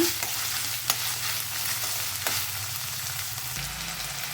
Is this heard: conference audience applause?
no